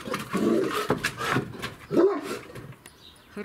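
A huge male Cane Corso barks a few deep, loud, close barks with short pauses between them.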